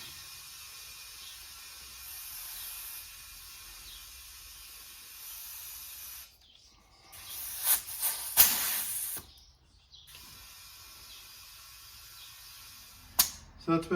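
Compressed air hisses into a tire on a 1954 Chevy truck under restoration, a faint steady hiss in long bursts broken by brief pauses, with a few sharp clicks near the end.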